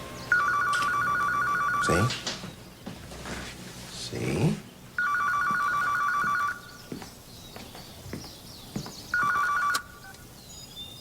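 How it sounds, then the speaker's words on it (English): An old-style telephone bell rings in three separate bursts, loud and near, with short gaps between them filled by rustling and brief spoken remarks. "that phone's going to ring any day now"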